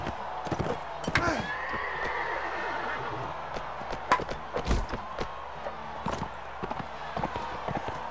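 Horses in the Mount & Blade Warband game whinny loudly over a run of clip-clopping hooves and clashing thuds, with a crowd murmur underneath.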